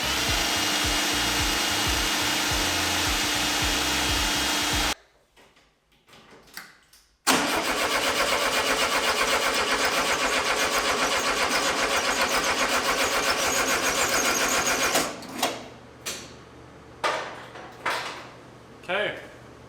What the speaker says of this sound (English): we're gonna turn that key and see if we can get it to fire up and run on its own